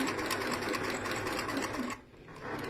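A sewing machine stitching a zipped cushion runs steadily and up close with a fast, even whirring rattle, then briefly slows and dips before starting up again.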